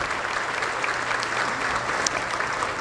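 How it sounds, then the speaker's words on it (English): Applause from the audience at a school district State of the District address, a sustained, even patter of many clapping hands filling the room at a steady level. "Let's give them a round of applause"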